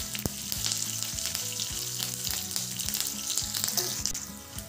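Chillies and curry leaves fry in hot oil in a pan, a loud continuous crackling sizzle with steady popping spatters close up, with no voices.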